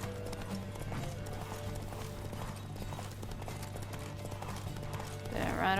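Galloping horse hooves in The Witcher 3, a steady clip-clop rhythm running under game music and ambience, with a faint whinny near the end.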